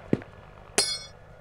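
Grenade thrown in a video game: two crisp metallic clinks about half a second apart, the second brighter and ringing briefly before fading.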